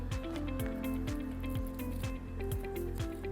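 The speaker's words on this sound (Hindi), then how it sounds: "अब इस पानी में मैं सबसे पहले पैंटीन को डाइल्यूट कर लेती हूँ" Pantene shampoo is poured into water for a pH test, giving faint, soft squishing and dripping liquid sounds over a low background hum, with no talk.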